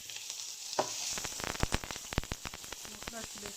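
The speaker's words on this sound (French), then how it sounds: "Donc je vais faire revenir. Donc je vais commencer par mes oignons. Va s'en suivre la viande hachée, les poivrons et les champignons." Onions, minced meat, peppers and mushrooms fry in a pan, a steady close sizzle broken by crackling pops and stirring scrapes, with faint speech underneath.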